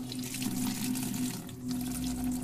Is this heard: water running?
yes